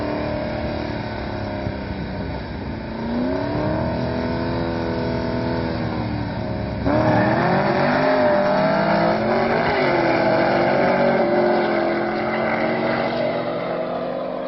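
A boosted 2012 Chevrolet Camaro with a cammed LS3 and TR6060 transmission accelerates hard, its engine note climbing through a gear change, then roaring louder as it pulls again, heard from inside the car.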